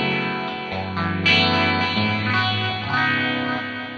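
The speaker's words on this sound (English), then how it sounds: "I can turn the phaser on or off." Electric guitar played through a Zoom G6 multi-effects processor with the phaser engaged, giving sustained, swirling chords that ring on steadily at close range for about four seconds with no talking.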